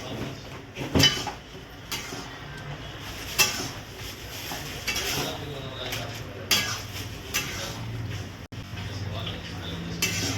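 Clattering and scraping of a spoon stirring soya chunks into sauce in a pan, with occasional metallic knocks and a low background sizzle, close by.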